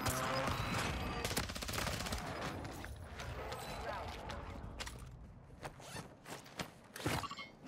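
Gunfire from an enemy team in Call of Duty Warzone crackles in rapid bursts at a distance, mixed with rustling movement and footsteps, fairly quiet with a sharper burst near the end.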